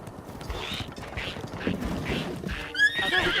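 A horse in Breath of the Wild gives a loud whinny over game sounds, with hoofbeats and a few mechanical clicks and creaks, ending in a sharper burst of neighing.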